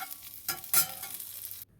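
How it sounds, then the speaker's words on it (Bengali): Neem leaves fry in hot oil in a pan, giving a soft sizzle broken by a couple of brief stirring scrapes, close and fairly quiet, then cutting off abruptly. "নিম পাতাটা আগে ভেজে নিলাম"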